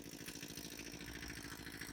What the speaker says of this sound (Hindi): वहाँ पे इंजन लगा हुआ है जिसकी आवाज़ आपको सुनाई दे रही है।